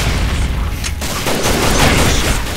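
Gunfire in a first-person shooter round with a sniper involved: loud, dense booming shots with a sharp crack near the middle, over a constant heavy game-sound wash.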